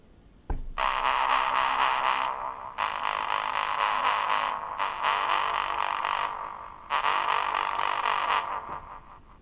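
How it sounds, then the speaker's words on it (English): A Korg Volca Keys synthesizer, sequenced from a Novation Circuit, plays sustained, buzzy notes in four long held phrases with short gaps between them, bright and fairly loud. "What you heard there was the Volca Keys playing what is actually going on the synth channel 1 here."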